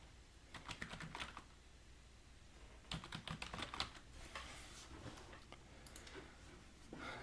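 Quick bursts of typing on a computer keyboard, close and fairly quiet, with short pauses between runs of crisp key clicks and no voices.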